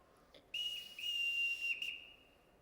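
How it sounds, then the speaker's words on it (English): A sharp signal whistle blown to summon household staff gives one sustained, piercing shrill note lasting over a second, loud and alone after a couple of faint preceding taps, with no voices. "Everyone in this house answers to a whistle."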